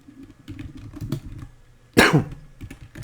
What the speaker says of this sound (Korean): 기침 계속 나오네요